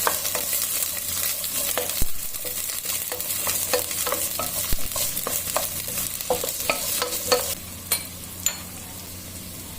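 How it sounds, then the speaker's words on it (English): Chopped onion sautés in olive oil in a large pot, giving a continuous close sizzle broken by repeated sharp scrapes and knocks of a spoon stirring through it. "Add chopped onion and saute till they turn soft and pinkish."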